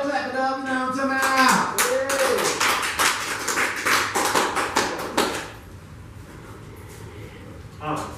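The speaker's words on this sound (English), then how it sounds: "Y'all clap it up" Audience clapping at a 60's-themed karaoke night, a burst of handclaps mixed with voices and music for about five seconds before fading to quieter room noise.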